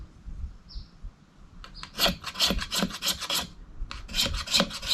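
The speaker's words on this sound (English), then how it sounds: "this is doing a better job of getting shavings off the spine" A bushcraft knife's spine scrapes shavings off wood in rapid raspy strokes, close and moderately loud, starting in short bursts after a quiet moment and settling into a fast, continuous scraping rhythm.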